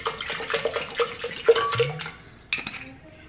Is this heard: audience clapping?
no